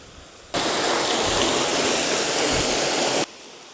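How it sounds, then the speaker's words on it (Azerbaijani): A roaring waterfall heard up close with spray flying: a dense, loud wash of rushing water cuts in abruptly, holds steady for almost three seconds, then drops away just as suddenly. "nəhayət şəlalənin ən yaxın nöqtəsinə gəlib çatdıq"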